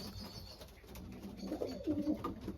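Racing pigeons cooing in a loft, low soft burbling calls rising in the second half over steady background noise, fairly faint and with no talking.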